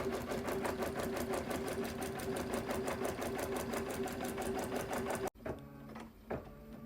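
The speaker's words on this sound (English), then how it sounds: "now your machine is going to just kind of stitch along here, and then it'll stitch around the other side of the design" An embroidery machine stitching a Christmas zipper stocking in the hoop, a fast steady mechanical whirr of needle strokes that stops abruptly, followed by a few quieter clicks.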